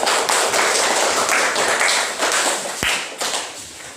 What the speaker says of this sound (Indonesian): Silakan kasih aplaus dulu yuk